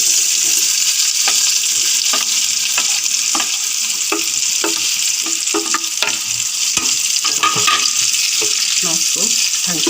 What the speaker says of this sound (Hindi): तेल हमारा गर्म हो चुका है। मैं इसमें ये बॉयल आलू ये सब डाल दूँगी।